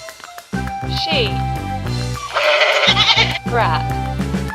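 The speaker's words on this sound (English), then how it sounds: "sheep." A sheep bleats as a drawn-out wavering call, loud and close over a bright backing tune, part of a children's English animal-vocabulary song.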